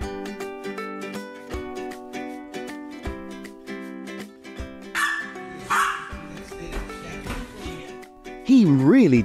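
A dog barks and yips in short bursts over light background music, with a voice also present, ending in a louder whimpering cry.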